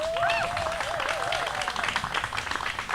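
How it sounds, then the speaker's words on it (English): A press-conference crowd celebrating Brooklyn gardeners, winners of a greenest-block award, breaks into a short burst of clapping with a few whoops rising over it. "can we give a round of applause for Brooklyn gardeners?"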